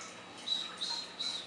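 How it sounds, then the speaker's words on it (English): A pet parrot gives a few short, high chirps in quick succession during training, close and fairly soft over a faint hiss. "I want her to keep chirping and chirping and chirping"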